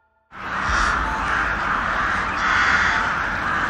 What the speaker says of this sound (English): Crows communicate with each other using a variety of vocalizations, including calls, caws, clicks